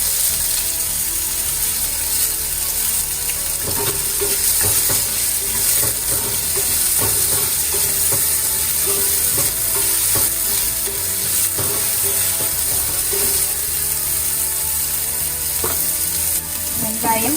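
Chopped onions fry in hot oil with popped mustard seeds, curry leaves and green chillies, a loud, steady sizzle throughout with intermittent scraping and clinking of a spatula stirring the pan.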